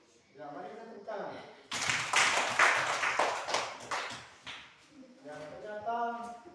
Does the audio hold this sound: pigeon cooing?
no